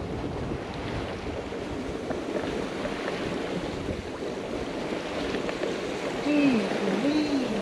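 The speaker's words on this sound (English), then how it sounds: "so you just get a sense of how fast this water is flowing." Fast-flowing water rushes past a sailboat and buoy on Bras d'Or Lakes, Nova Scotia, as a constant close wash and splash mixed with wind buffeting, with a brief rising whistle near the end.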